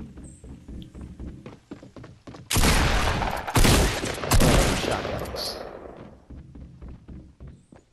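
Gunfire in the Fortnite video game, a dense loud burst of rapid shots lasting several seconds amid quieter in-game thumps and footsteps before and after.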